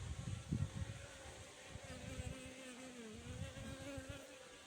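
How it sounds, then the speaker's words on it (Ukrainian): Ukrainian Steppe honeybees buzz close by at the hive, a few droning individuals weaving over a low, uneven hum of activity. "Видно, які сизенькі, сіренькі, красиві бджілки лазять на фоні рижих."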